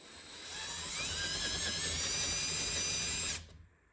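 Electric drill with a 3/4 inch spade bit bores into a Weatherby Model 307 rifle stock, a loud steady whine for several seconds that cuts off abruptly and winds down.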